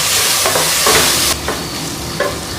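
Mint leaves and green peas sizzle and sputter in a hot pan for a tomato peas pulao, a loud close hiss with a few stirring scrapes breaking the frying noise.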